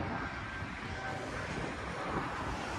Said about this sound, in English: that's an Air Canada jet.